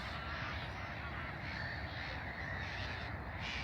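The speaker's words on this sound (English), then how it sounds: "you've got all your black-headed gulls flying around, making all that noise that you can currently hear" A dense chorus of harsh black-headed gull calls fills the air continuously at a nature reserve, many birds crying at once against a constant noisy background.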